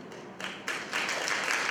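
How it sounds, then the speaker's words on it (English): An audience bursts into applause, the clapping starting sparse and swelling in stages into a full, dense round within a couple of seconds. "that is also worthy of applause"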